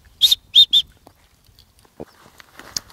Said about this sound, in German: Ich habe eine Pfeife hier drin.